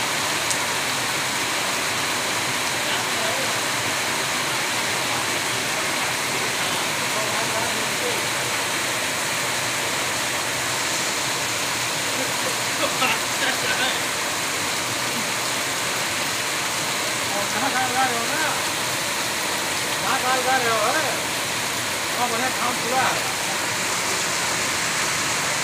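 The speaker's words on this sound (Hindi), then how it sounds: "सुहावल पंडितपुर में बरसात, भीषण बरसात हो रही है।" Heavy monsoon rain pours in Sohawal Panditpur, Faizabad, a dense continuous hiss of downpour throughout, with faint voices and occasional clatter in the background.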